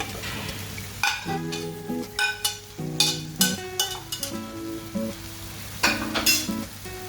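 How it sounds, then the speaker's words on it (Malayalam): Fried chicken pieces dropped into sizzling masala in a pan for chicken roast, with a steady frying hiss broken by repeated sharp metallic scrapes and clinks of a spoon against the pan, close and clear. "ഇതിനകത്തോട്ട് ആ വറുത്ത് വെച്ചേക്കുന്ന ചിക്കൻ ഇട്ടു."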